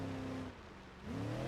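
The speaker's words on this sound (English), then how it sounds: "V8 sounds good." A Ford Crown Victoria V8 engine in the video game BeamNG hums steadily, dips briefly, then climbs again in a rising rev, close and continuous with no talking.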